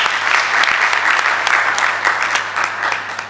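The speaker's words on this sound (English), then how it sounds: "Let's give her a clap," A crowd claps steadily and loudly at a vision-themed talk for an audience of schoolgirls, a full sustained round of applause with a faint low hum underneath.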